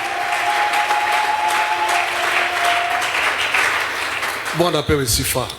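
A church congregation applauds steadily in a large room, with sustained clapping filling the space before a voice rises over it near the end.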